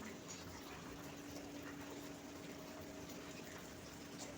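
Steady running water with a soft continuous gush and slosh as raw white rice is washed, close by and fairly quiet, with no voices.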